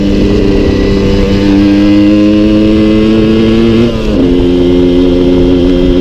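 A Suzuki 125 TSR trail motorcycle revs hard on an off-road dirt track in the Emparis plateau, its loud buzzing two-stroke engine rising steadily in pitch, dipping briefly at a gear change, then pulling up again.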